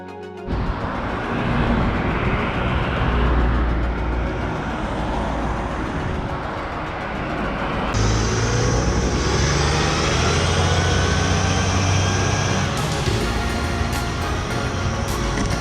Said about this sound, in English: it's like a really busy road, so I gotta be kind of careful